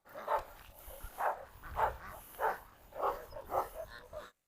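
A blue Cane Corso and other dogs bark and yip in a string of about seven sharp, evenly spaced bursts, fairly close and without speech.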